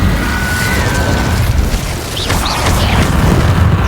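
A fire spell cast in Hogwarts Legacy, a loud whooshing roar of flame with booming, rumbling bursts layered over game combat effects, sustained for a few seconds.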